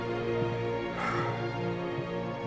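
Sled dogs in a blizzard race, yipping and whimpering in short repeated calls over a dense, steady roar of wind or music.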